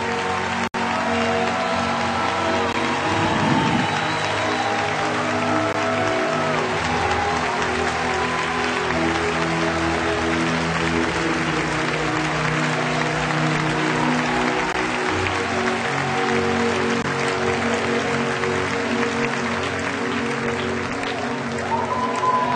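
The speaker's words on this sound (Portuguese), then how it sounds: "Aplauda mais forte, mais forte, mais forte" At a prophetic church conference, a congregation claps long and hard, a loud, continuous roar of applause over sustained music with occasional voices.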